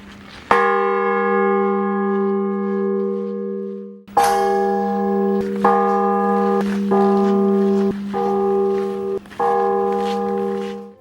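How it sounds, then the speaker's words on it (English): A big temple bell at a Buryat temple is struck repeatedly by passers-by, each loud clang ringing out with long sustained tones that overlap the next strike, with no voices. "a big bell that everyone walking by is meant to ring is at the first spot to stop"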